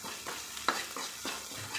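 Onions fry and get stirred in a pan for a bean stir-fry, a close sizzle broken by several quick scraping stirs and one sharp clack, with no voices.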